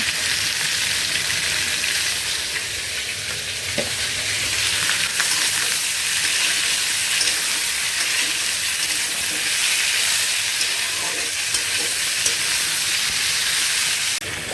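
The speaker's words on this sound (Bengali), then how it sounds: "এই যে বেগুন আর আলুটা কষিয়ে দিচ্ছে" Eggplant and potato fry in fish oil, giving a loud, continuous, close sizzle with a dense hiss throughout and a few faint stirring clicks beneath.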